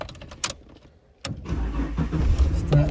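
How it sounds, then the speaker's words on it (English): A Holden VY Commodore engine cranks and starts after a click of the ignition, then settles into a steady, close idle rumble. "Then we'll put the ignition on."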